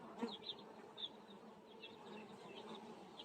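Carniolan honeybees buzz at the hive in a steady, close drone with a few louder passes of individual bees near the listener, and no voices over it.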